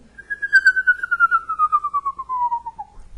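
A person whistles an imitation of a screech owl's descending whinny, a single smooth tone sliding steadily downward with a slight wavering tremble over about three seconds, clear and close with no other sounds.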